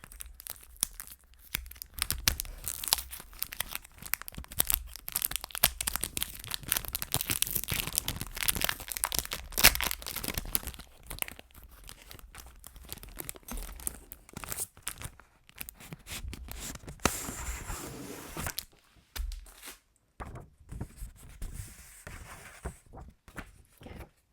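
Lined, personal-size journal paper for a Filofax is handled and crinkled up close. Crisp rustles, crackles and tearing-like crunches come in busy bursts, then thin out toward quieter, sparser handling at the end.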